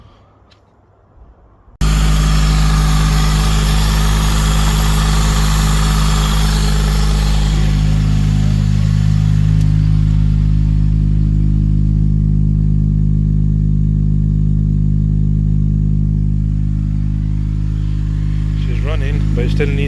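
A newly fitted engine in a Honda Civic EP3 Type R starts after a quiet moment and then runs at a steady, loud idle for the rest of the clip, with people talking over the engine.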